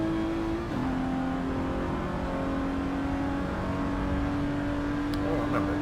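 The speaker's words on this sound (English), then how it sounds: "Ferrari sounds pretty nice." A Ferrari with a V12 engine in Forza 7, droning at a steady pitch with a brief gear change near the start, then holding a constant high hum under faint talk.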